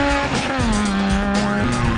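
The D11 race car's engine howls loudly during the Paardeplaas 200, its revving pitch rising and dipping across gear changes, with a hint of tire squeal and no voices.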